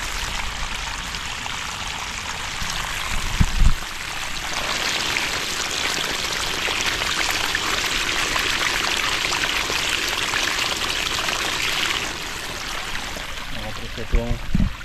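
Potted plants are watered outdoors with a strong, continuous rushing pour that runs for several seconds, loud and close. Brief voices or handling noises come at the start and end.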